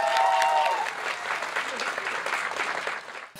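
Crowd applause at a student rock concert as the singer is introduced, a full sustained clatter of clapping with a brief whine at the start, dropping off abruptly at the close.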